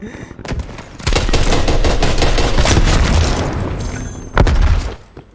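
Rapid bursts of Type 63 tactical rifle fire ring out in Call of Duty: Black Ops Cold War, a short volley followed by a long sustained string of loud shots, then one more sharp burst near the end.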